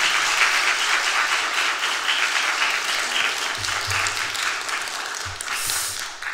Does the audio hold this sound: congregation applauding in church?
yes